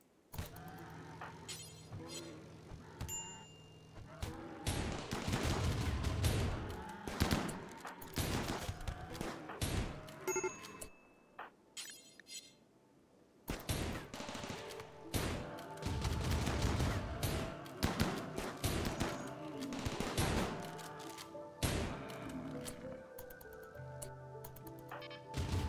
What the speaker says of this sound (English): Okay, turrets are engaging.